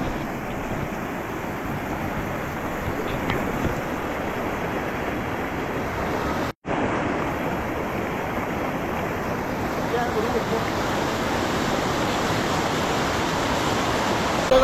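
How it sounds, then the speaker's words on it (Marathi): A hot water spring flows at the Taptkund pool at Yamunotri Dham in the Himalayas, giving a steady, close rushing wash of water. The sound cuts out for a split second midway. "इथून पूर्ण एकदम गरम पाण्याचा झरा आहे"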